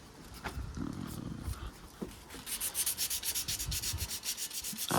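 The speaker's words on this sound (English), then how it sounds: "Let's see if we can clean that up a little bit quick." Sandpaper worked by hand over a metal kart frame being prepared for powder coating: a close, rhythmic scratchy rubbing that starts hesitantly, then settles into steady back-and-forth strokes.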